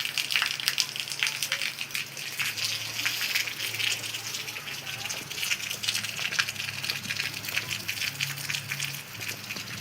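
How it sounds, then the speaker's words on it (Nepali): A natural waterfall in the rainy, dark outdoors pours steadily as a continuous broadband rushing roar, close and loud, with a faint low hum beneath and no talk. "झर्ना है, झर्ना, नेचुरल झर्ना।"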